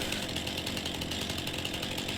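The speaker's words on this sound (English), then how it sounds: "You can use your chainsaw to get rid of the stump." Steady, close chainsaw drone from Farming Simulator as the saw cuts through a stump, a constant rough rasp with fast pulsing texture and no voices.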